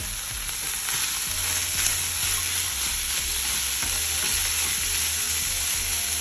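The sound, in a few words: frozen vegetables added and frying with chicken curry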